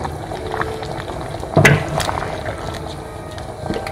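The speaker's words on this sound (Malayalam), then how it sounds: "ഇതിൽ കുറച്ചും കൂടെ വെള്ളം ആഡ് ചെയ്തിട്ട് ഞാനിതിൽ ഒഴിച്ചു കൊടുക്കുന്നുണ്ട്." Water poured into a pot of simmering coconut chicken curry gives a brief splashing burst midway, over a low steady bubbling of the boiling gravy close by.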